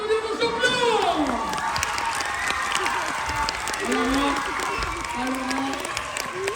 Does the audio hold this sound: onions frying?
no